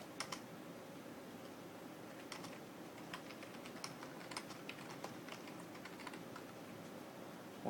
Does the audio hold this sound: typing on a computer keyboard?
yes